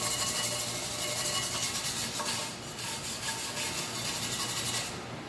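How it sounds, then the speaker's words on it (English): Steady scratchy brushing across a rusty Olympic weight plate, a continuous close rasp of bristles on metal for a few seconds with no pauses. "I'm just going to hit these with the brush real quick."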